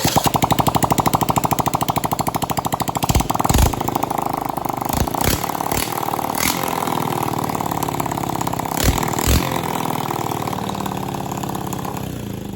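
A Honda CT200 Trail 90 motorcycle engine runs after a stator, rotor and spark advancer repair, starting with fast, even chugging and then settling into a rough, loud idle with a few sharp knocks, close by, no talking.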